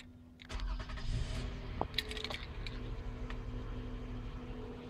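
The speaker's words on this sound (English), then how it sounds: "let's get the engine to start" A Toyota Sienna LE V6 minivan with about 7,128 miles cranks and starts at roughly half a second, then settles into a quiet, steady idle with faint clicks and jingles over the low hum.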